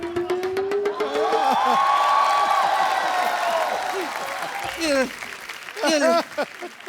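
A studio audience applauds at The Kapil Sharma Show, with sustained clapping and crowd noise under music and talk, then short louder bursts near the end.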